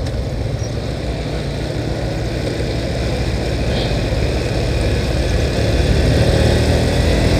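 A motorbike engine drones steadily while riding on the road, with constant wind rush and a faint voice underneath.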